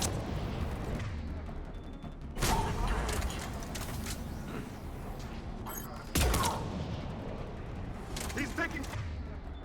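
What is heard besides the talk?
gunfire in Mass Effect Legendary Edition video game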